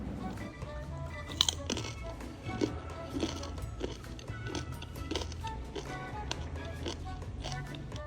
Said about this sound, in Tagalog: And tingnan nyo kung gaano siya kalutong.